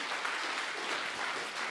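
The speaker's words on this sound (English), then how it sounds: "Give a big applause to our sponsors" Conference audience at the Voxxed Athens 2017 opening ceremony clapping for the sponsors, a dense, even wash of applause from many hands lasting the whole short stretch.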